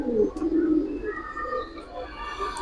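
Giribaz pigeons in a loft collection give deep, soft coos, strongest at the start and fading into quieter, overlapping calls, with light ambient noise behind them.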